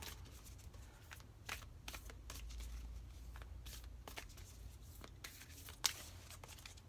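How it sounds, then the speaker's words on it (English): A deck of oracle cards is shuffled close by, giving repeated soft riffling and slapping bursts, with one sharper snap near the end, over a quiet room hum. "So I think that we've given them there a good shuffle."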